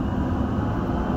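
A Dubai Metro Green Line train runs along the track, a steady loud low rumble and rolling hum with no pauses or speech.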